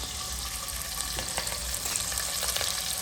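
Curry leaves and green chilies frying in oil for Tirunelveli kootanchoru, a steady, close, dense sizzle and crackle that holds throughout with no voices.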